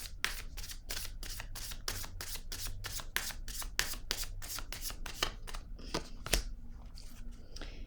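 Tarot cards being handled and drawn at close range, with a fast run of crisp riffling and flicking snaps, then a few slower slides and taps toward the end, with no voice.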